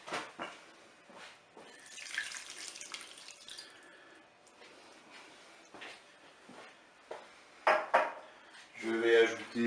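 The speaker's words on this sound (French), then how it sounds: "Je vais ajouter de l'eau pour recouvrir." Water is poured into a pot over tomatoes in a turkey-leg mustard dish, heard as faint, intermittent splashing and trickling with clatter, and a louder pour near the end.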